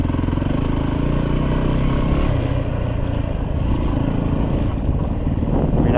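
Motorcycle engine droning steadily on a wooded trail near Fairbanks, Alaska, with a shift in pitch partway through as it downshifts; continuous and moderately close with no talk.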